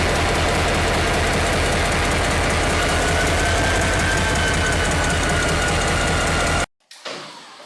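A rebuilt SD40 diesel locomotive runs with a dense, loud rumble and a steady rattling roar that holds without a break, then cuts off abruptly near the end.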